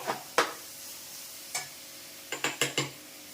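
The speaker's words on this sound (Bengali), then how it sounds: "মশলাটা ভালো করে কষিয়ে নেব" Spice masala being sautéed in a pan for a spicy Bengali dish, heard as a handful of sharp scraping stirs against the pan, one early, one near the middle and a quick cluster at the end, over a faint background.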